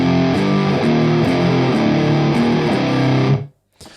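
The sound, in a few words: guitar through Two Notes Captor X stereo room reverb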